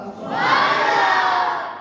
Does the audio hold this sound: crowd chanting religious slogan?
yes